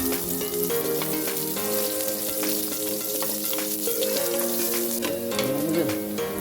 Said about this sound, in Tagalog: Mainit na yung ating mantika, maglalagay na tayo ng, unahin natin ang bawang. Ayan, isunod na natin ang ating sibuyas.